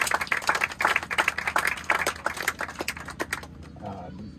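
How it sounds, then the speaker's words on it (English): A small crowd gathered for the grand opening of a community park's soccer fields gives a round of applause, with scattered, fairly close claps that thin out and fade after about three seconds. "give all those folks a round of applause for all of their work."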